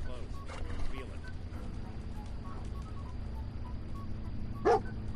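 Dogmeat, the dog companion in Fallout 4, lets out a single short bark near the end, sharp against a steady low ambient hum and faint background noises.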